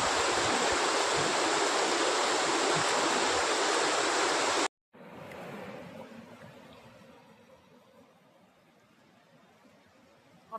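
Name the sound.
Chichati waterfall flowing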